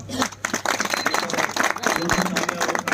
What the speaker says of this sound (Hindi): आप ताली बजाकर इनका स्वागत करें